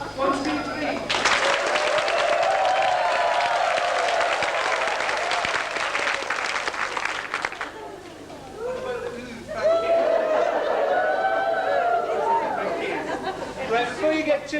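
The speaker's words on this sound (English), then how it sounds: "A round of applause followed by a from everybody" An audience at an amateur theatre show claps in a long burst of applause with voices chattering through it, fading briefly before a second round swells up again.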